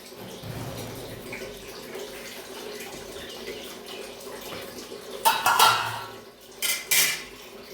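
Fried fish lifted out of a metal wok in a village kitchen, with two bursts of metallic clattering and scraping against the pan after a stretch of low background noise.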